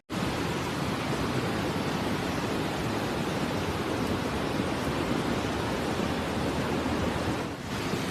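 Floodwater from the overflowing El Cojo River rushing through a street near La Playa Avenue in La Guaira, Venezuela: a loud, steady, broadband roar of churning water that continues unbroken, with no voices.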